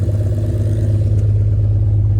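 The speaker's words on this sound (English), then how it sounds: "it has no exhaust on it, so it just sounds really weird" A turbocharged BMW E46 330ci with a B30 engine runs with no exhaust fitted, a loud, raw, steady mechanical drone with uneven clattering pulses that sound like misfiring, close up and continuous.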